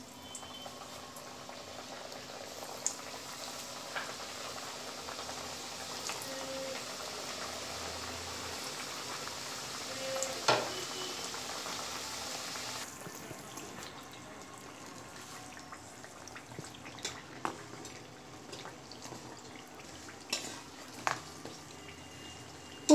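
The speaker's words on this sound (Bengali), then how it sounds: "প্রথমবার চারটে ভাজলাম," Three-cornered nimki snacks deep-frying in hot oil make a steady, soft bubbling sizzle that runs on without a break, with no talking.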